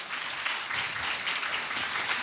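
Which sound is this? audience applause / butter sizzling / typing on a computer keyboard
audience applause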